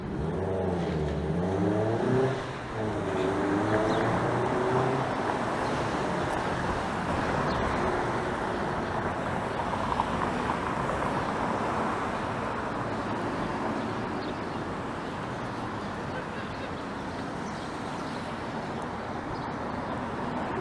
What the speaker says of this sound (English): There's a car right behind me going really slow.